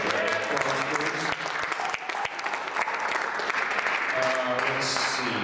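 A steady round of applause from a live audience for a performer, full and continuous throughout, with a few louder claps and faint voices mixed in.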